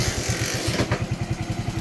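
A motorcycle engine starts up outdoors with a dog nearby, settling into a close, loud, rapid rhythmic idle putter for a couple of seconds.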